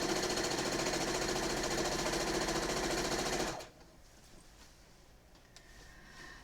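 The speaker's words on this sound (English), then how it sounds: "I'm going to start sewing it about a 1/4 inch from the edge." A sewing machine quilting a quarter inch from the edge while binding a quilt runs in a loud, steady rapid stitching rhythm for about three and a half seconds, then stops, leaving faint room noise.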